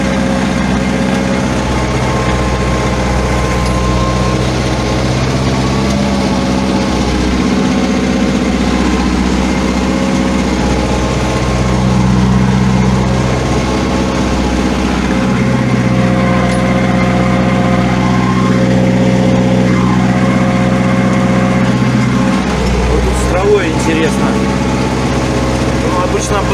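A homemade tractor's small engine drones steadily throughout, its pitch rising and dipping as it labours pulling a plough through dense soil, close by with no other sounds standing out.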